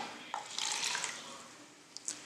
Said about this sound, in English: we're gonna pour this into our cup